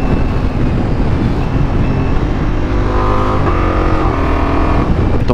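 A car accelerates hard through several gears toward high speed, the engine roar loud and close, rising in pitch with a steady drone and no talk.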